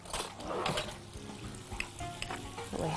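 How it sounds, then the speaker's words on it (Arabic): Flour being stirred and toasted in melted butter and ghee in a pan, a close, soft sizzle with repeated scraping strokes of the stirring spoon and a few light metallic taps, no voices. "ونحمص ونلون الدقيق."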